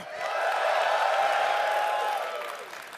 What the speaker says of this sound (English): One more cheer for RuneScape!